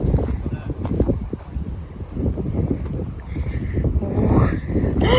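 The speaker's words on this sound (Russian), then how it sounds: "У нас 20 градусов и ветер," Strong wind at a lakeside summer campsite roars and buffets the microphone in gusty bursts, close and loud, with faint voices and splashing in the background.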